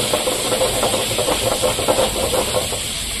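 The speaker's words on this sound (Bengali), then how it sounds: "তেলটার মধ্যে কালো জিরে ফোড়ন দিয়ে দিব।" Nigella seeds (kalo jire) sizzling as they hit hot oil in a pan, a steady close crackling hiss with a dense, even texture throughout, no voices.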